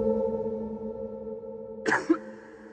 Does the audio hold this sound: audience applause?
no